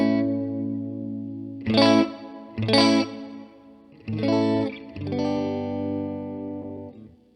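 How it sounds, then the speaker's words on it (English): Electric guitar played through a heavily modded Fender Blues Jr. amp with its spring reverb dialed in, sounding as sustained chords and a few picked accents that each ring out with a reverberant tail, with no talking. "I believe that's a spring reverb on there right now"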